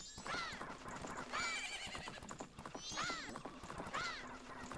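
A horse in the Majora's Mask video game neighs repeatedly, four shrill whinnies spaced about a second apart, over a bed of clip-clopping hooves.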